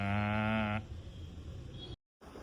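A calf, recovering after its back was burned, gives one loud, drawn-out bleat close by, then it breaks off into low background rustle on a farm.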